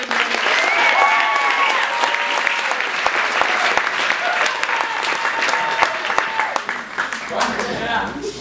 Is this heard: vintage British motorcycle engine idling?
no